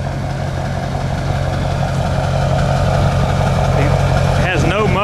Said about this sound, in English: This is a 5-inch MBRP exhaust that we just installed